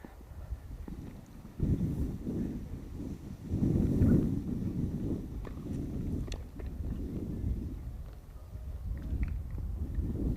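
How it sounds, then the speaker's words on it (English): Wind gusting across an outdoor junior tennis tournament court in Windhoek, low rumbling buffeting against the microphone that swells and eases throughout, with faint distant court sounds. "It's a little bit windy."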